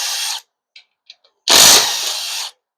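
A pneumatic impact gun on a 4R75W transmission rattles in a short burst, then a few faint ticks follow before a louder, sustained second burst of about a second, close and loud with no voices.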